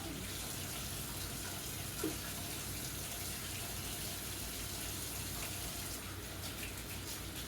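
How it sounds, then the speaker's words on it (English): Hands being washed under a running kitchen tap to rinse off cream cheese, a steady, close rush of water that stays even throughout with slight splashing changes. "My hands have cream cheese all over them, so I'm going to wash them real quick"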